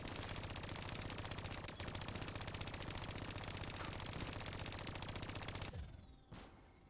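Sustained rapid automatic fire in Call of Duty: Black Ops 3, a loud unbroken stream of shots for several seconds that then cuts off, leaving a few fainter sounds.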